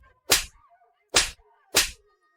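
Three sharp slaps across the face in a dubbed drama, evenly spaced crisp smacks about a second apart, each loud and close with brief silence between.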